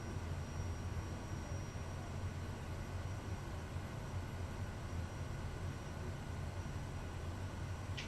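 Kodiak 100 turboprop with its propeller pulled back into beta on the ground, giving a loud, steady propeller and engine drone with a constant broadband roar throughout and no voices.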